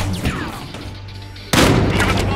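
Gunfire from the video game Battlefield Hardline: a loud, sharp burst of shots erupts suddenly partway through and continues densely to the end, following a quieter stretch of game ambience.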